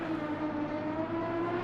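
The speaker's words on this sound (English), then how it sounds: "Listen to that V12 scream." Simulated V12 race car engine in Assetto Corsa Competizione at Bathurst, a steady high-pitched scream with strong harmonic whine, loud and continuous throughout with no talk.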